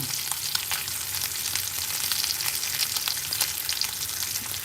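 Food fries in hot oil at a lunchtime spot, a dense, steady sizzle and crackle that holds at an even level throughout, close up with no talking.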